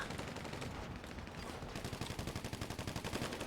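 Rapid bursts of gunfire in a NoPixel GTA roleplay game, shots coming through a wall, crackling in a fast repeating rhythm that grows denser and louder toward the end over a constant noisy bed.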